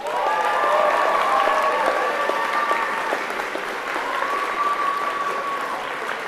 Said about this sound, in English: we will clap for you